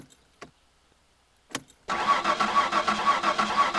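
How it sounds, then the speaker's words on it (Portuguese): A car engine in the driving game My Summer Car cranks with two short starter bursts, then catches and settles into a steady, fairly loud idle. "Parece que a gente tem que ligar o carro primeiro."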